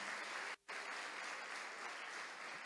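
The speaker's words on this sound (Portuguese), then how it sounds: "Uma salva de palmas aí para Jesus." Congregation applauding at a church conference, dense steady clapping from a crowd that briefly drops out for a moment, then resumes evenly.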